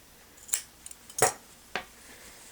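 Crisp scissor snips cutting crochet yarn while lining a crocheted purse, three or four short close clicks spaced apart in a quiet room.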